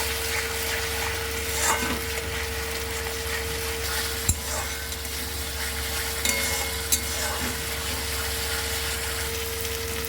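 Tomato paste frying in a wok, a continuous low sizzle with a few sharp clicks and taps from stirring, fairly faint and steady throughout with no voices.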